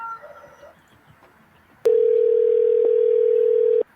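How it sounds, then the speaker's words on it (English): A single steady ringback tone of a telephone call ringing out, loud and continuous for about two seconds after a short stretch of faint background noise. "I'm calling her."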